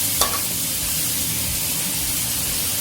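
Sweet peas stir-fried over the highest heat, giving a loud, even hiss and sizzle throughout, with one sharp tap near the start and no talking.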